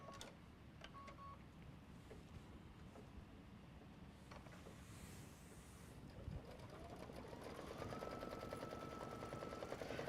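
Sewing machine satin stitching ladybug wings in red thread, a steady fast mechanical whir that grows slightly louder toward the end, quiet and continuous with no talking.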